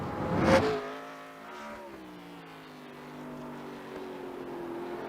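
Porsche race cars roar around Watkins Glen at a Porsche Owners Club event, with one car whooshing close by early on, followed by a steady engine drone with rising pitch as the cars pull away.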